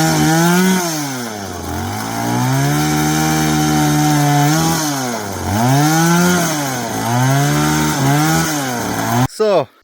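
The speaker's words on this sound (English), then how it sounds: "these things here I do with the chainsaw" A chainsaw cuts timber for building a sauna in Meghalaya, India, a loud close engine whine rising and dipping as it bites into the wood, running continuously before cutting off abruptly.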